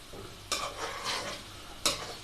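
A metal spoon stirs chicken kadai in a metal pan, making two sharp scraping clanks over a soft continuous sizzle, close and fairly quiet.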